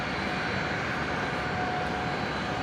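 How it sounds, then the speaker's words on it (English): A Qantas Boeing 737 airliner sits just after pushback at Brisbane Airport, its jet engines giving a steady, loud broadband roar that continues unchanged throughout; no talking. "The Qantas 73 here just pushed back, just about to begin its taxi."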